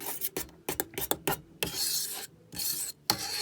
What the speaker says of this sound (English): It's a low heat, and I'm going to use my whisk